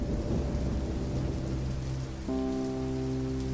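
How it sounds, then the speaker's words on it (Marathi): Steady rain pours down with low thunder rumbling underneath, then a held musical tone swells in partway through, a sudden downpour of the kind used in a children's moral story. "अचानक पाऊस पडू लागला."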